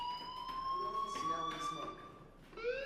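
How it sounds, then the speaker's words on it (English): A fire alarm blares inside a school in Life is Strange, a steady electronic tone with a slowly shifting pitch sounding over constant background noise while a voice talks. "do you hear that fire alarm?"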